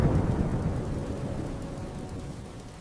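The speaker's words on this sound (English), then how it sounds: "It's raining really hard." Heavy rain pours steadily with a deep rumbling wash, loudest at first and easing slightly, no voices.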